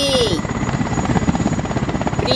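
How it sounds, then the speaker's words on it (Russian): A toy helicopter in a Lego City police cartoon whirs steadily through the whole short stretch, its rotor buzz continuous and fairly loud, with a cartoon voice briefly audible over it. "Оп, кажется, маленький вертолетик — это его сообщник."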